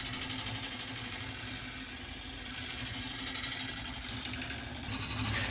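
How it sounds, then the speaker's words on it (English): Ash bowl spinning on a wood lathe while a bowl gouge shear-scrapes its curve, a steady motor hum with a continuous soft cutting hiss, close and even throughout, a little louder at the end. "I'm having a lot more success shaping this bowl using the edge of my bowl gouge kind of in a shear scraping orientation"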